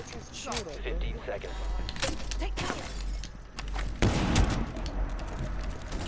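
Gunfire from a weapon in Rainbow Six Siege, heard as a few sharp, scattered shots under a player's excited talking over game background noise.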